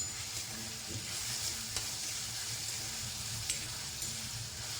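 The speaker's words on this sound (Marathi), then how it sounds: "मीठ टाकून छान परतून झालं की 2 मिनटं ठेवलं की लगेच तो कांदा टोमॅटो शिजून जातो" Onion and tomato sauté with salt in a pan for stuffed-eggplant bharit, a soft, even sizzle and hiss running throughout with only a couple of faint spoon taps.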